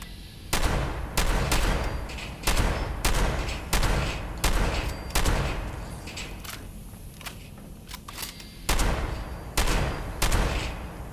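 Gunfire in the video game Fallout 76 near a reactor: a steady series of sharp, loud shots in quick bursts with short gaps, close and continuous throughout, with no talking.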